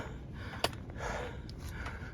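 Heavy breathing from a hiker climbing uphill on the Pacific Crest Trail in Oregon at 7,300 feet: a sharp gasp, then several labored breaths, close and fairly soft.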